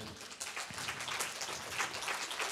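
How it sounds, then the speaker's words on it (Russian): Audience applause at a lecture on John Lennon: a dense, steady wash of clapping from a nearby crowd fills the whole stretch, fairly even in loudness, with no talk over it. "Я приглашаю на сцену под ваши бурные аплодисменты Олега Александровича Устинова, который..."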